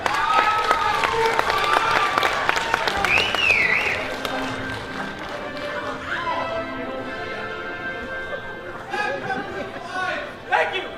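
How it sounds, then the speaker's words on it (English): Audience at a Jackson High School Mr. JHS pageant clapping and cheering, loud at first and tapering off, with a crowd chattering and someone speaking over it. "Round of applause"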